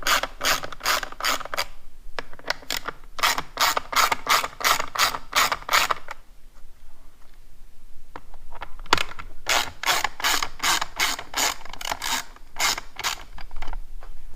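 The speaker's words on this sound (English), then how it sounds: "grab yourself a Torx T20. You're going to remove the handguard." A Torx T20 driver ratchets while removing handguard screws, bursts of rapid sharp clicking close by, separated by short pauses between turns.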